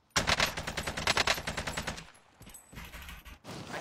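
Warzone video game gunfire: a long rapid burst of automatic fire, loud and close, then a pause with distant shots and another short burst at the end, no talking.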